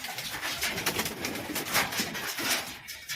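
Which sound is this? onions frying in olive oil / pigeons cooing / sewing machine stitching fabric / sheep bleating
pigeons cooing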